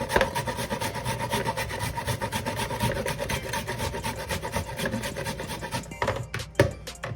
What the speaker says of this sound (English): you just grate your coconut.